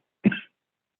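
One short, close cough, a single abrupt burst that fades quickly into silence.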